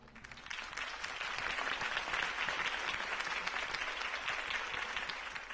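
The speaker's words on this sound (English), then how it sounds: "If only Mr. Wayne, my campaign's largest backer, could have heard that applause" Crowd applause in the Batman Telltale Series video game after Harvey Dent's campaign speech, a steady, dense wash of many hands clapping that swells in quickly and holds loud throughout.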